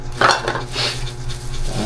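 Small camping plate and utensils handled at close range, a few quick clattering knocks and scrapes of light metalware over a low steady hum.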